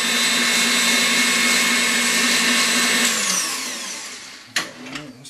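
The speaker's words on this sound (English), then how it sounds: "I like to just blend it really good to make sure everything gets nice and incorporated together." An electric mixer whirs loudly and steadily through pound cake batter, then winds down with a falling pitch and stops, followed by a short knock and a few light clatters of the bowl; no voices.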